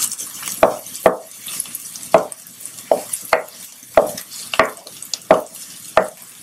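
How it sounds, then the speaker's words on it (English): Garlic and ginger frying in hot olive oil for a venison rib stir fry, with a steady sizzle under repeated rhythmic scraping or chopping knocks from a utensil against the pan, close and fairly loud. "So we got our olive oil nice and hot, and we just put in our garlic and our ginger"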